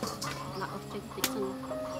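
Chickens clucking nearby in an outdoor cooking setting, a few short irregular clucks and squawks at moderate volume over faint background noise.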